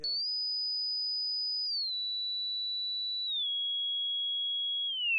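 A pure, whistle-like sine synth tone played mono with legato holds steady, then glides smoothly downward in a few slow steps, sustained and alone with no other sounds.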